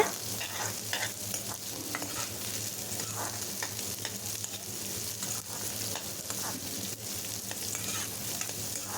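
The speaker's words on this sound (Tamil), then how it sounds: "எண்ணெய் சூடானதும் ரெண்டு பெரிய வெங்காயமாக இந்த சைஸில் கட் பண்ணி வச்சுருக்கேன் ஆட் பண்ணிக்கலாம் நல்லா வதக்கிடுங்க" Chopped onions sauté in hot oil for a chutney, giving a steady, dense sizzle throughout with faint stirring scrapes close by.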